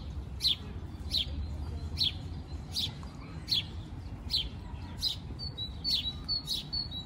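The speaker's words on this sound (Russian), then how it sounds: "Воробушки чирикают." Sparrows chirp in a Moscow park, about ten sharp, high chirps spaced roughly evenly over a low, steady background hum of the city, with no talk.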